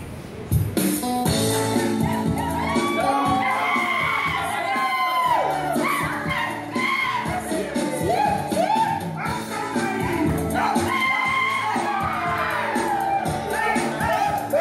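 Wedding guests in Vanuatu cheer and shout for Silva, a loud, steady crowd roar with children's shrieks and whoops running throughout.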